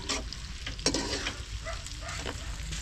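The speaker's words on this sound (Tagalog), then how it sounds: "Gigisa na rin tayo ng spaghetti sauce natin." Spaghetti sauce sautés in a pan on the stove, a close, steady sizzle and crackle broken by sharp clinks and scrapes of stirring.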